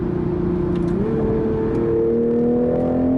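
A 2021 Toyota GR Supra accelerating on the road, its engine tone climbing steadily with a gear change around the middle, loud and close from inside the car, with no talking.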